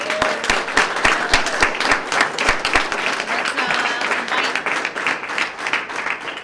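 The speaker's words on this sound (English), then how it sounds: "Please, let's give everybody a round of applause." A crowd at a Sarasota police swearing-in ceremony gives sustained applause, with sharp individual claps standing out near the front over a dense wash of clapping.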